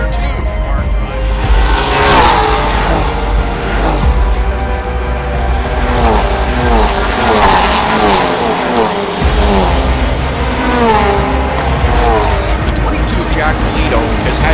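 Race cars, including a Ford Mustang, at speed on a sports car championship circuit, loud engine roars rising and falling as they pass under an excited commentator's voice.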